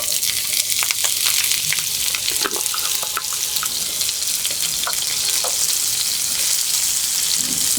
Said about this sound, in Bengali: চুলায় একটি প্যান বসিয়ে দিয়েছি, তেল দিয়ে দিয়েছি, তেলটা গরম হয়ে গিয়েছে। দিয়ে দিচ্ছি পেঁয়াজ কুচি আর কাঁচা ঝাল কুচিটা।